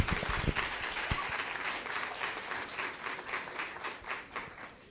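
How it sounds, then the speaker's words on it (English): An audience at an annual general meeting applauding speakers, a soft, fairly distant patter of many hands that starts with a few sharper claps and gradually thins and fades over about five seconds. "Can we please give them a round of applause?"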